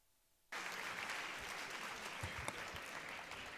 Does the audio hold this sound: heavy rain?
no